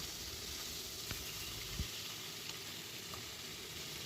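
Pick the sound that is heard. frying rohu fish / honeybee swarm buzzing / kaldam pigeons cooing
frying rohu fish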